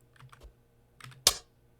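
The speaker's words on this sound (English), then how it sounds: "I'm using my arrow keys." A few light computer keyboard taps on the arrow keys, soft clicks close by, ending with one sharper, louder keystroke in a quiet room.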